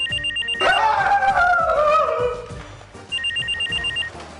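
A telephone bell rings in rapid trilling bursts in a comedy sitcom scene, stops under a loud burst of music and commotion, then rings again clearly.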